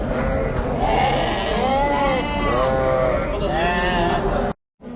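Lambs bleating at a busy livestock market, several loud overlapping bleats close by with people talking underneath, then a brief cutout near the end.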